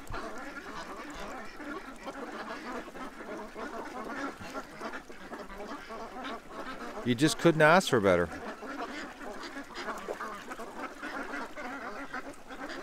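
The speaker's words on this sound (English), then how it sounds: "the ducks, there's a whole bunch of ducks behind me" A flock of ducks at a spring-fed pond quacks in a short loud burst midway, with softer background noise around it, while someone talks nearby throughout.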